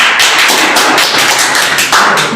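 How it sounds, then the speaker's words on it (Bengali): Students in a class clap their hands together, a dense, close, steady patter of applause lasting the whole moment with no voices over it. "ঠিক আছে, এর জন্য হাততালি মারো।"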